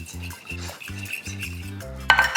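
Seasoned flour dredge mixed in a bowl for chicken-fried pork chops, heard as a steady rhythmic series of scraping, clinking stirs close by, finishing with a brighter clatter.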